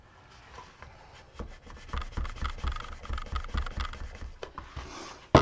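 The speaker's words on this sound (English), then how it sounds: "Turn it on the inside, burnish it, turn it up, support it, and burnish again on the outside just a little bit." Burnishing a part of a garden box, a tool rubbing firmly along an edge in a series of short rasping strokes, close and fairly loud, with no talk.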